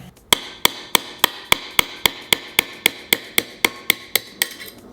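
A hammer drives a pin while swapping the shift finger on a Subaru STI 6-speed transmission held in a vise: about fifteen sharp metallic strikes at an even, steady rhythm, close and loud.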